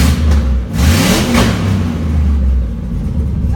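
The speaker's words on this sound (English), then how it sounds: "Give her a couple revs. Hear how she sounds." A Chevy Silverado 2500HD's LQ4 6.0 engine revving loudly and close, several rising throttle blips over a deep, heavy rumble, with no cooling system fitted.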